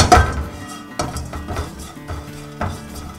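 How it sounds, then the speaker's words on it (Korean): Almonds stir-fried in an oiled pan, with scraping stirs and light clinks of a utensil against the pan at a steady pace, a faint sizzle underneath, close and moderately loud, no talking. "견과류를 볶을 거예요."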